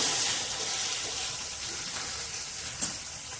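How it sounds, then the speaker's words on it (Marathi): Onion and coconut masala sautéing in a pan for a chickpea curry, a soft, steady sizzling hiss heard faintly and alone, with one brief clatter near the end. "परतून घेऊया कांदा खोबऱ्याचा मसाला"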